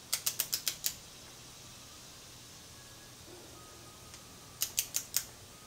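A torque wrench ratchets while tightening the thermostat housing on an Evinrude ETEC outboard, giving a close run of six sharp clicks, then a quiet pause, then four more clicks.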